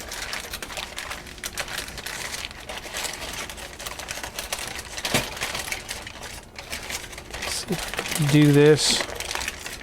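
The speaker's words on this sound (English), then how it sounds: "fold up that aluminum foil and crease it" Aluminum foil being folded and creased for a meat loaf baking rack, crinkling and rustling close by under a man's speech, growing louder toward the end.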